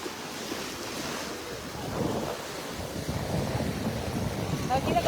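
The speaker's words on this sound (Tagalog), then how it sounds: "Uy, grabe ang alon ngayon, ha?" Rough ocean surf rolls onto a beach in a steady wash of breaking waves, with heavy wind buffeting the microphone, loud and continuous throughout.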